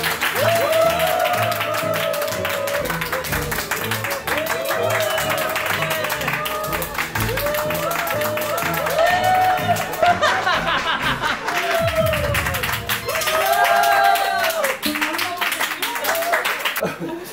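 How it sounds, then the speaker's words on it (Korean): Guests at a pop-up store event applaud an artist, clapping mixed with laughter, chuckles and overlapping voices that keep going throughout at a fairly close, steady level. "박수 부탁드리도록 하겠습니다"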